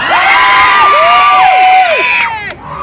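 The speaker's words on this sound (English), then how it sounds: "I want to see who can give the loudest but the shortest cheer." Choir students at a Hollywood awards ceremony give a loud, short cheer, a burst of high whooping and shouting voices that rises together and then cuts off sharply near the end.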